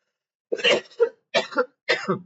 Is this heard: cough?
yes